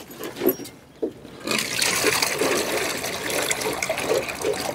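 Leftover washing water is poured outdoors onto planted grass in a sustained, close, fairly loud gushing splash after a few brief knocks, with no talking.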